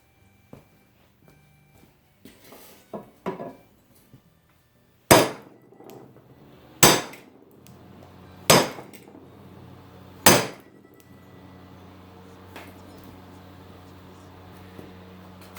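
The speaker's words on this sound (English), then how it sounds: "that was several hits with my heaviest hammer, which is a 22-ounce framing hammer" A 22-ounce framing hammer strikes a small cast 4-inch Central Forge drill press vise. Four loud, ringing metallic blows land at spaced intervals after some lighter taps and clinks, each with a short decay.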